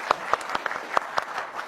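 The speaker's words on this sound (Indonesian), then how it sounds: "Tepuk tangannya boleh dong buat Pak Rahim" A small audience claps in sparse, separate claps spaced a fraction of a second apart, a modest round of applause rather than a full ovation.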